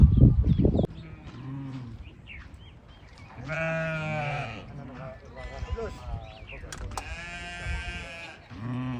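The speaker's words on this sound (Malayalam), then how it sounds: "ഈ ഭാഗത്തും ആടുകൾ തന്നെ ഉണ്ട്" Goats on a camel farm in Jizan give several close, wavering bleats in a row, some overlapping, after a short burst of louder low rustling at the start.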